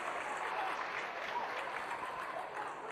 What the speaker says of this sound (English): it's Maswi's tackle that got an applause from the crowd, didn't it?